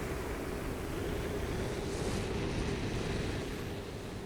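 A steam rocket launching in Oxygen Not Included gives off a steady, broad rushing roar that holds evenly throughout, with no break.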